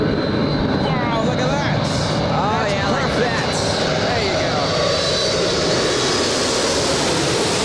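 A Japan Airlines jet lands at LAX, its engines roaring loudly and continuously with a rising and falling whine, while people talk excitedly over it.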